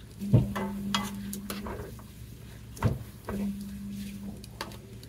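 King oyster mushrooms cook in a pan, with a couple of sharp clatters from stirring over a low sizzle and a steady hum, close and fairly quiet, no voices.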